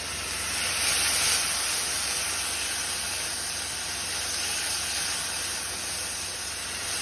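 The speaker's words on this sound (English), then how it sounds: "we got the veggies covered and they're simmering in there, getting all steamed up" Vegetables for lo mein simmer under a lid in a pan, giving a steady, even steaming hiss that holds at a constant level throughout with no voices.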